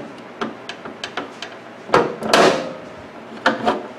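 A flathead screwdriver pries at the plastic door latch part of a Magic Chef microwave oven, giving a string of close knocks and taps, then a scraping crackle as the part is forced up, followed by two more taps.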